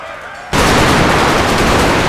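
Dense, continuous rifle gunfire erupts suddenly in a Total War battle between Zulus and Boers, a loud sustained crackle of many firearms volleying at once after a quieter opening.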